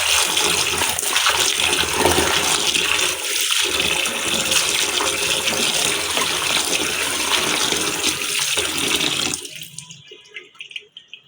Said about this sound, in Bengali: আমি শাকটা ধুইতেছি